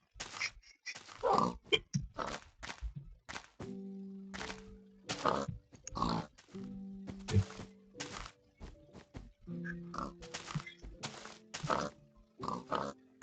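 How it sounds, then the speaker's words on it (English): Blocky video-game pigs grunt in short repeated bursts, several low tonal oinks spaced irregularly among soft clicks and footstep-like thuds, fairly close and with no talking. "It's just pigs."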